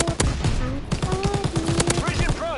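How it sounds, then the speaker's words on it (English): Machine gun fire in a video game: a loud, rapid stream of shots at an even rhythm, with a player's voice talking over it. "Did they add where you can build a machine gun right here?"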